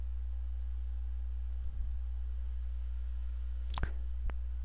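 Computer mouse clicks while working in Inventor software: a quiet room with a low hum, a soft tap early on, then two sharp, close clicks a moment apart near the end.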